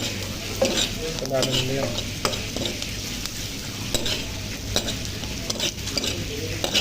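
Garlic browning in a hot pan for laing sizzles steadily and close, with spoon stirs scraping through it and a brief voice speaking over the frying.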